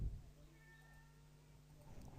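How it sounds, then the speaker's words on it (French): A cat meows at a window, a single soft, drawn-out call heard faintly over a low steady hum in a quiet room. "j'ai un chat qui miaule à la fenêtre"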